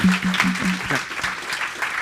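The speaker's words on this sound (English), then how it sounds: "Please give a round of applause to them." An audience applauds presenters after a data science and mental health talk, a brief burst of many hands clapping with a voice speaking briefly over it.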